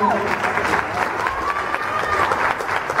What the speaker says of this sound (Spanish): a estos grandes músicos que se merecen todo el aplauso de ustedes